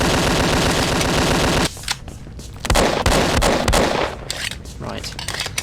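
Automatic gunfire in Emergence: Infiltration, a 2009 FPS Creator first-person shooter: a dense, loud sustained burst, then scattered shots and shorter bursts with brief gaps between them.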